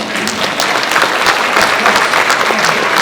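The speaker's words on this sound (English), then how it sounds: "you can clap at that. That's lovely. Clap at that." Dense audience applause fills a Comic-Con panel hall for the Banshee Season 2 cast, a continuous loud clatter of many hands with no break.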